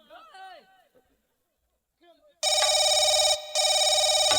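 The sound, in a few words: telephone ringing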